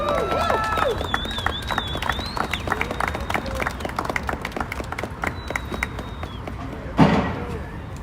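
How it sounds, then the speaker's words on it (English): Audience at a Washington DC rally clapping for a speaker, a burst of scattered hand claps with cheering and whistles, fading to sparse claps before a brief loud thump near the end. "Give him a round of applause"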